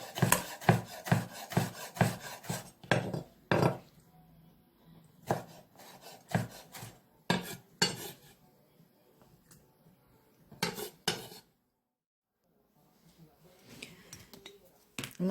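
A kitchen knife slices food into thin strips on a cutting board while a shrimp and guacamole verrine is being prepared. A quick run of close, crisp chopping strikes gives way to scattered single cuts with pauses, ending in softer scraping.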